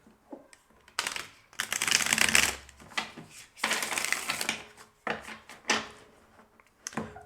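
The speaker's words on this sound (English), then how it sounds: "So those cards are amazing to shuffle, but they are not so amazing to take out the cards. But the shuffling is so nice." A deck of cards is shuffled in several bursts, each a crisp, fluttering riffle of rapid clicks close up, separated by short pauses and softer handling sounds.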